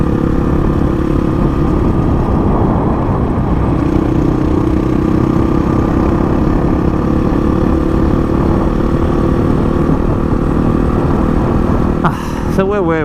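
A 2008 Honda CRF 450 motorcycle engine runs steadily nearby, a constant rough mid-pitched drone that holds throughout, with a brief change near the end.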